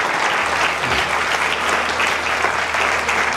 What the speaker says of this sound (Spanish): Alguien le aplaude una vez más al Señor, por favor